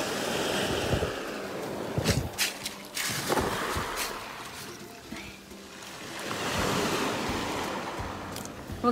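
Steady ocean surf washing in and out, a broad rushing hiss that swells and fades, with wind buffeting the microphone and a few faint thumps.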